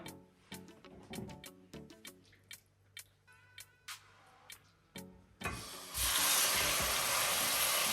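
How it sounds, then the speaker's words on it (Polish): Scattered ticks and small pops at first, then a loud, steady sizzle of hot oil in a pan takes over. "Podgrzewam olej na patelni."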